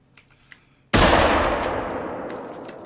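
A single loud 30-30 rifle shot in a hunting video game hits a blackbuck, a sharp crack ringing into a long decaying echo after a second of near quiet.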